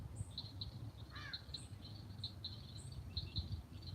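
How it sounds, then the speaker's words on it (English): A steady chorus of frogs calling at night among bamboo, pulsing high-pitched trills repeating over low background noise, moderately distant, with no voices. "Man, listen to those frogs."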